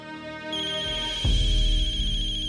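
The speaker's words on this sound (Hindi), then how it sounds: "उसी का फोन आ गया" A telephone ringtone plays loud and close, a bright electronic melodic ring that carries on steadily with a fuller tone joining partway through, with no voices.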